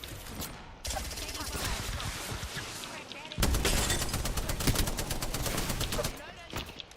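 Gunfire in the video game Apex Legends: dense, rapid automatic bursts running almost continuously, loud and close, with a short gap before a heavier stretch of fire, while a person talks over it.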